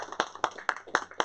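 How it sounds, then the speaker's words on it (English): Audience clapping at an evening tech-and-tequila networking talk: a quick run of about five sharp, evenly spaced claps in just over a second, fairly close and moderately loud, with no voices. "Let's give another round of applause to Kat, please."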